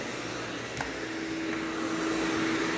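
A vacuum cleaner with a straight wand runs steadily during janitorial cleaning, giving a constant whine and drone. A faint knock comes partway through, and the motor grows slightly louder toward the end.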